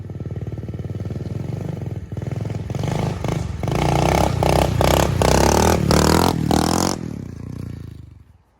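SSR 125 pit bike engine revving hard during wheelie riding, a loud, steady buzzing drone with rising throttle bursts and brief choppy dips, then fading away at the end.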